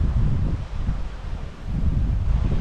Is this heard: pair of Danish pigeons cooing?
no